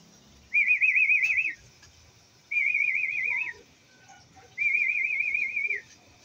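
Three sustained warbling whistles from a pigeon fancier calling pigeons back to a landing board, each about a second long with short pauses between, clear and fairly close over quiet background.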